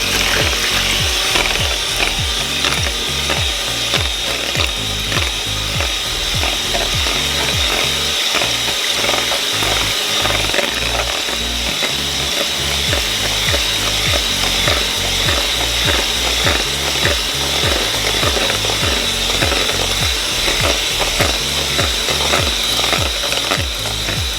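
Flan cake batter is whisked steadily in a bowl, making a fast, repetitive clicking and scraping rhythm that stays close and loud throughout, with no speech.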